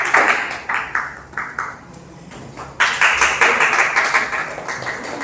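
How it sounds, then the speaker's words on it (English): A small crowd gives volleyball coach Jackie a round of applause at an athletes' recognition event, with several bursts of close, sharp clapping that pause briefly before picking up again. "give your coward coach Jackie a round of applause."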